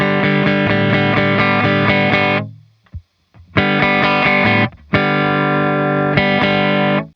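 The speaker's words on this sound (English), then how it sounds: "Now it starts to really compress the signal." An electric guitar plays through a compressor into an Orange Gain Baby 100 solid-state amp, giving loud, distorted, sustained chords in three bursts with brief silent breaks between them.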